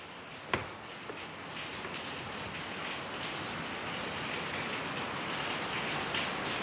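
Steady rain drums on a zinc metal roof of a villa room, a dense, even hiss of drops lasting throughout, with one sharp knock near the start.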